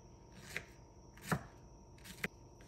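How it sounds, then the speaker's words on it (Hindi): A knife chops green chillies on a board in three distinct, spaced strokes, crisp and close in a quiet kitchen. "मिर्चों को कट कर लेती हूँ"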